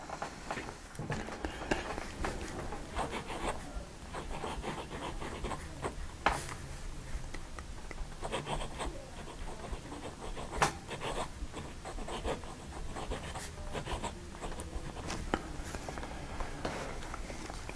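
Extra fine brass pocket pen nib scratching across Fabriano paper, a steady close scratchy writing texture with small clicks and pauses, written unposted, and no talk over it.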